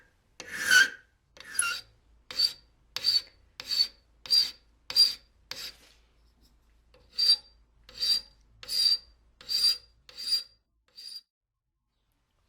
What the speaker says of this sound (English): right now I'm going to use a rough file to continue shaping the cutter closer to size